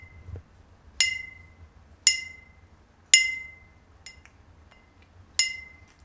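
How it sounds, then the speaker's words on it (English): A parrot repeatedly bangs a purple glass object, giving four or five sharp, bright clinks spaced about a second apart, each ringing briefly and fading, with no talking. "You're gonna bang the glass?"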